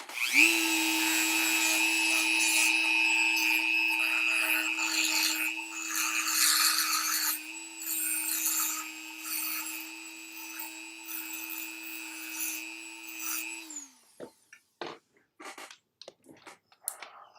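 Steady rasping and rubbing from sanding a wooden toy part runs continuously at close range for about fourteen seconds, then breaks into a few short scraping strokes and taps.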